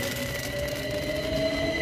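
A Class 66 freight train rolls through a station with sustained metallic wheel squeal and screeching tones over a constant rumbling roar, loud and close throughout.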